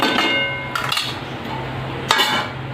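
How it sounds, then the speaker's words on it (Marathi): Metal spoon scraping and clinking against a pan while stirring cluster bean and potato dry sabzi, a few sharp knocks over low background hum. "याला हलवून घेऊ आणि मंद आचेवर शिजवून घेऊया।"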